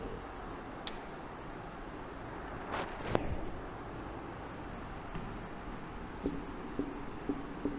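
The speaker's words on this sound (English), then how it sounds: "I am going to write a sentence on the board." A sentence written on a classroom board gives a faint continuous scratching and tapping of the marker or chalk, with a few sharper clicks and strokes, alone and without talk.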